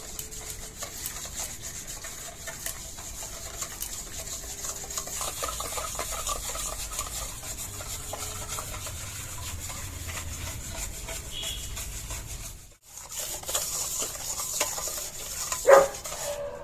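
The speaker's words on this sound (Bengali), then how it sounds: "চিনিটা গোলা অবধি তেলের সাথে ভালো করে মিশিয়ে নেব।" A spoon stirs sugar into oil in a bowl with a steady scraping and rubbing, briefly stopping, then resuming with a sharper knock near the end.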